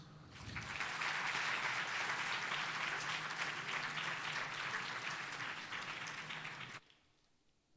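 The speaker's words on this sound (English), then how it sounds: "Let's start with a round of applause." A round of applause from a music forum audience, a dense clapping crowd that swells in quickly, stays loud and even for several seconds, then fades near the end.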